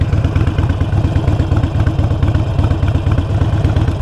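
A manual motorcycle engine idles in neutral, loud and close by, a steady low chugging rumble with rapid even pulses throughout.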